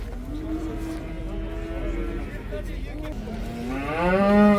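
Cows low at a livestock market in Taraz, a long, steady moo followed by a louder, closer call at the end, with people's voices and crowd noise around them.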